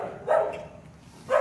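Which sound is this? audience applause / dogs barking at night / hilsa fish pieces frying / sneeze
dogs barking at night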